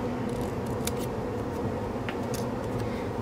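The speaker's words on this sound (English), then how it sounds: "I'm going to just use my scissors and just cut out the little ends" Scissors snip through the ends of a piece of card stock for a handmade holiday card, a few quick crisp cuts close by over a steady low hum, with no one talking.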